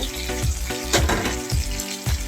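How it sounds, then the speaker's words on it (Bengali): Nigella seeds (kalo jira) tempering in hot oil for a tart, spicy fish curry with hog plum: a steady close sizzle with bursts of crackling spatter, no talk. "আর দিব সামান্য কালো জিরা কালো জিরার ফোড়নটা দিয়ে নেব"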